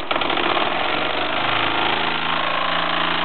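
A Mamod SP8 James Watt toy steam beam engine running steadily, a dense continuous mechanical whir and rapid chuffing with a vibrating rattle, close and loud throughout, no talking.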